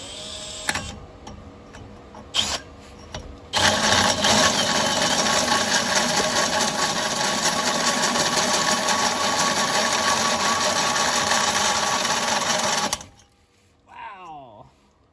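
A hole saw drills out the exhaust pipe of an MK6 VW TDI. Short starts give way to a loud, steady, close grinding whine lasting about nine seconds, which then cuts off abruptly.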